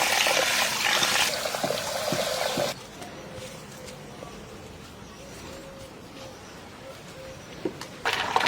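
Plain village-store rice for chicken biryani washed in water: a rushing pour at the start, then quieter swishing and dribbling, and a fresh gush of running water at the end.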